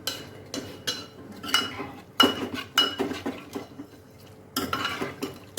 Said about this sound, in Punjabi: ਮਸਾਲੇ ਦੇ ਵਿੱਚ ਚੰਗੀ ਤਰ੍ਹਾਂ ਮਿਕਸ ਕਰ ਦਾਂਗੇ